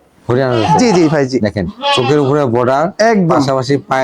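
A Haryana breed goat bleats loudly and close by, several wavering cries in quick succession filling the short stretch.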